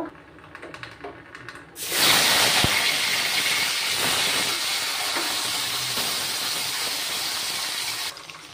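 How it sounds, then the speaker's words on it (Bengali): Hilsa fish heads drop into hot oil and fry with a sudden loud, continuous sizzling hiss that holds steady for several seconds before easing off. "আগে মাথাগুলো ভেজে তুলে রাখবো।"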